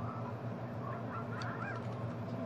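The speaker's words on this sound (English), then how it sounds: "Well, let's kick this chicken." Chickens in the video game Fable 2 give a few short clucks and squawks over a steady game background hum, with no talking.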